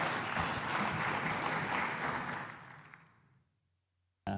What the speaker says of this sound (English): applause for Andrew.